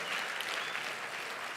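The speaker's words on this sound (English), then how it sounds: "Give him a round of applause" Warm, continuous applause from an awards-evening audience for a performer, a steady wash of many hands clapping with no voices over it.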